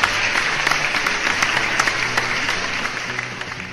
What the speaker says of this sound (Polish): wielkie, ale to wielkie brawa.